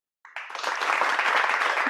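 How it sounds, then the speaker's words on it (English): Handclapping that starts abruptly after a short silence and builds into a fast, dense, steady run of claps, sounding more like several people than one, close and clear with no talk over it. "I give her a little clap."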